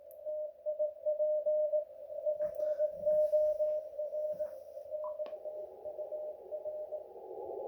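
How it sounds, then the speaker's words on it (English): Radio receiver noise comes through a mini whip antenna with an MFJ-1026 noise canceller in the line, heard as a steady buzzing tone under crackly interference that shifts to a rougher, broader hiss near the end. "Now you'll notice the this is just a huge amount of noise."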